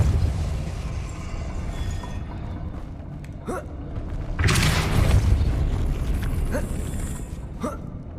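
A Depulso spell cast in Hogwarts Legacy: a deep whooshing boom surges up over a low rumbling background, with a few sharp clicks before and after.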